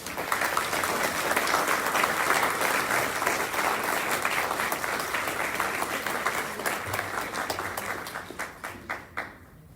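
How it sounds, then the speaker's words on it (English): Audience at an athletics hall of fame induction ceremony applauding in a sustained, dense burst of clapping that thins into scattered individual claps at the end. "How about another round of applause, ladies and gentlemen, for Mr. Renee Torres"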